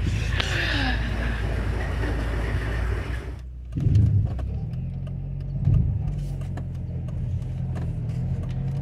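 A car rumbles along a city street with a continuous engine drone, a brief rise in volume as it passes, then a lower steady hum with light clicks and faint background talk.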